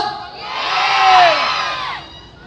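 Concert crowd at a Mindanao stage event cheers and shouts together, a loud swelling roar of voices that builds to a peak mid-way and then eases off, with no speech over it.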